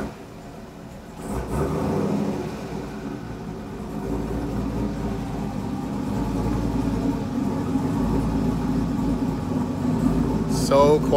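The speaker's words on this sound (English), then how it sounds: "So give you a little cold start from the new car and the new sound this morning" A race car built for the Pikes Peak hill climb starts cold. A brief burst is followed by a steady, low, droning idle that rumbles on evenly at close range.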